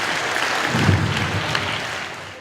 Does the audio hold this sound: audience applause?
yes